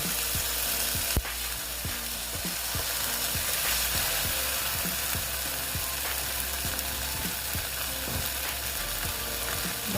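Mustard and poppy seed paste fries in a pan with a steady close sizzle, broken by repeated scraping clicks of a spoon stirring through the mixture.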